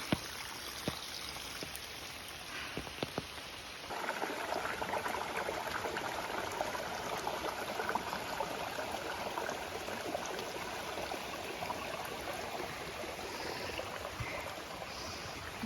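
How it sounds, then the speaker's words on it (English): Steady rain patters and trickles through the woods on the Appalachian Trail, a soft broadband hiss that thickens after a few seconds and continues without pause. "So it started raining, and this is the trail now"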